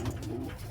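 A roller pigeon hen in a breeding loft gives a short, low, soft coo, close and clear with no talking.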